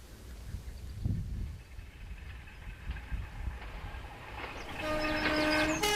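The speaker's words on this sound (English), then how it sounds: "Today the southeastern service trains fly past" Southeastern passenger service train on the Hundred of Hoo line near Hoo Junction rumbles past at speed, with rolling wheel noise that builds toward the end and a horn sounding near the close, no talking.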